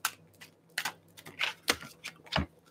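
Tarot cards being shuffled by hand give a run of quiet, irregular snapping and riffling bursts, close by, with short gaps between them.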